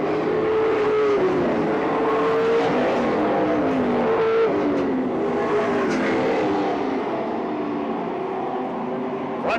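Race cars roar out of turn 4 at a racetrack, multiple engines droning together with shifting pitch as they accelerate down the straight, loud and continuous from a distance.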